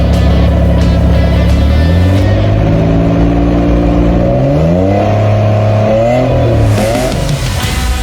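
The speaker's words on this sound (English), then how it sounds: "you can send those car sounds into the show" A car engine revs hard and loud, its pitch stepping up through several climbing sweeps like shifts under acceleration before settling into a sustained roar.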